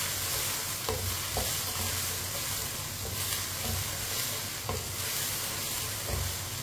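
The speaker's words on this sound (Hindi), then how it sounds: "अब इन्हें भी दोनों चीजों को 3-4 मिनट के लिए फ्राई कर लेंगे।" Okra (bhindi) frying in a pan with mixed ingredients makes a steady, even sizzle, punctuated by a regular series of soft stirring scrapes, close and moderately quiet.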